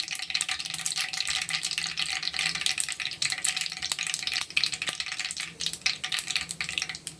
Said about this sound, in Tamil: இப்போ வெங்காயத்தை போட்டுக்குவோம்.